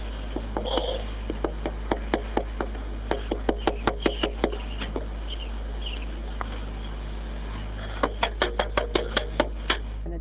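A fist knocks on someone else's door in quick bursts of sharp raps, heard over a phone line with steady low hum, the knocks grouped irregularly and moderately near.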